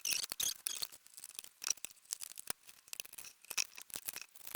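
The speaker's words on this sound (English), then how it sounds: "So we're just going to cut the box, cut these side bits." Scissors cut through the sides of a cardboard box for a junk journal cover. The snips are quick, crisp and close, coming in an uneven rhythm, quiet overall and with no speech.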